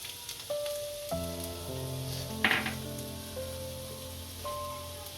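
Finely chopped garlic, cumin and asafoetida sizzle in hot oil for spinach curry, a soft crackle under sustained music tones, with a brief louder spatter midway.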